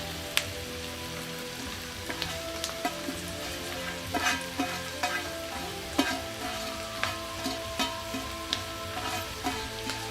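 Chopped garlic sizzles steadily in a hot pan with oil while being stirred, with repeated scraping clicks of a utensil against the pan over a continuous fry, close and with no talking.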